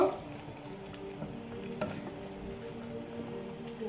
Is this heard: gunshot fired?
no